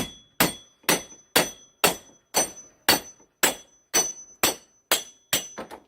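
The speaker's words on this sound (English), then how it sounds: "I'm just gonna hammer it down on the anvil" Steady hammer blows on a railroad spike against an anvil while forging a mace, about twelve sharp metallic strikes at an even rhythm of roughly two per second, close and ringing, with no talking.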